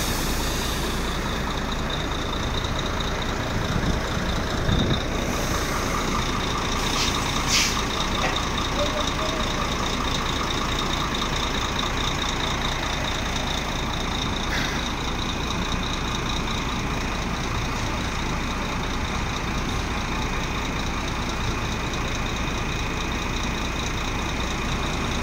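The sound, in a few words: trucks passing on the Transamazonian highway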